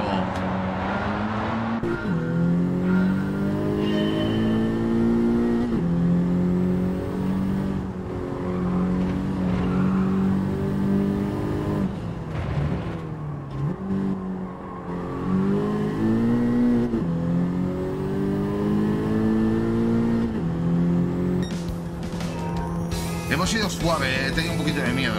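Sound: compact car racing in the video game Gran Turismo 7

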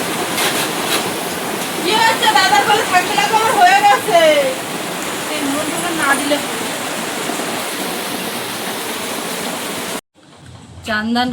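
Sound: rain falling

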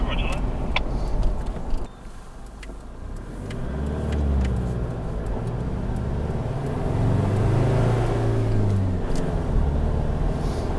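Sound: car driving onto a dirt track

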